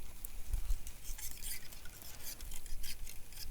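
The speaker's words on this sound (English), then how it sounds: "Give that a stir" A utensil stirs food in a small cup at a snowy winter camp, with faint, close scraping and clinking in a loose rhythm over a soft outdoor hiss.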